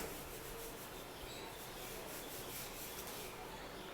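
An eraser rubs writing off a classroom board during a chemistry lecture, a steady scratchy friction noise that carries on for about four seconds, close and moderately quiet, with no talking.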